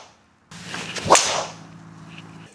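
Golf drive struck with a Titleist TSR3 driver: a quick swoosh of the swing ends in a sharp, loud impact crack, followed by a fading airy whoosh, heard close and with no talking.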